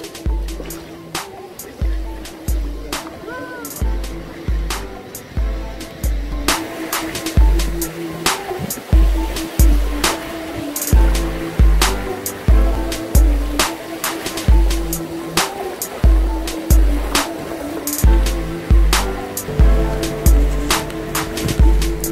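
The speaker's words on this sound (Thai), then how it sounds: "มาแล้วได้ยินเสียงคลื่นไหมครับ" Ocean surf at a Thai seaside resort beach, loud and continuous, with a steady rhythmic pulse and bursts of wash. A strong beat of background music runs over the top of the waves.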